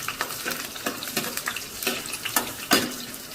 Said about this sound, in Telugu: వేసి ఫ్రై చేయాలండి, కొద్దిగా ఫ్రై చేయాలి.